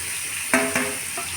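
Garlic, tamarind and chopped radish fry in a pan for a radish chutney, a soft steady sizzle broken by two short, close scraping stirs.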